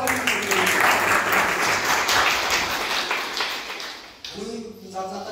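An audience breaks into applause at a Marathi book event, a dense burst of clapping that fills the room for several seconds, then fades out as a speaker's voice returns over the tail.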